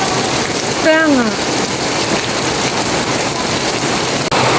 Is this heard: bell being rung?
no